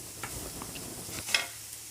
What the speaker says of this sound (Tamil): 3 கப் கேரட்டையும் வச்சு நல்லா வதக்குறோம்.